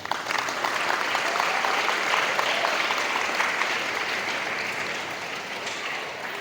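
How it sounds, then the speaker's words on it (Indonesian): Steady, dense applause from an audience at an Islamic New Year religious lecture held at a pesantren in Sukabumi, a broad wash of clapping that holds for several seconds at even volume. "Tepuk tangan untuk Ar-Rahman Sukabumi"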